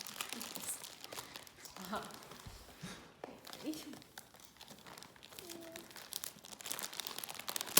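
Gift wrapping paper is torn and crinkled open in soft, scattered rustles and rips, nearby, while people chat over it.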